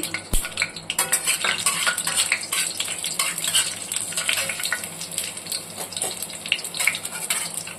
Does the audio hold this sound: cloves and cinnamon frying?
yes